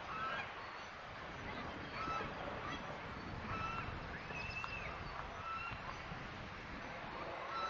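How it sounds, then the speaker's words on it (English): Waterfowl at the Hermann Park pond honk and call repeatedly at a moderate distance over steady outdoor background noise. "look at the ducks."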